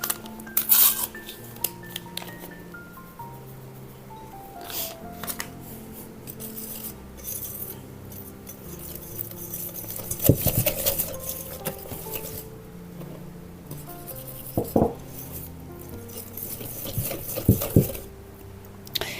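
A spoon stirs cake batter made with flour and baking powder in a bowl. The clinks and soft scraping against the dish come in irregular bursts, close and moderately loud, with no talking.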